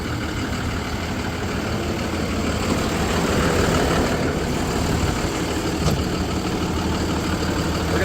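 A truck's engine idles steadily at close range for about eight seconds, a constant low rumble with a slight swell midway and no voices.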